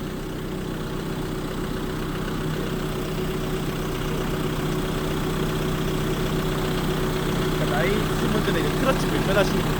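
A tractor engine idles close by with a steady, loud, continuous low rumble and vibration throughout, no voices over it.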